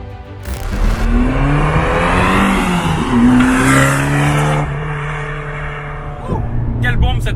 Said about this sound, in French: on enchaîne avec l'Abarth 595 Competizione et l'échappement Monza, mais Victor va vous en parler.